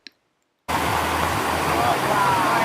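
Water pours down the Bua Thong Sticky Waterfalls near Chiang Mai, a steady, loud, broadband rush that cuts in abruptly after a brief near-silence with a small click at the start.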